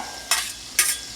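Two quick bursts of hissing sizzle as loco moco ingredients are tossed on a hot griddle, close and fairly loud, with quiet pauses between.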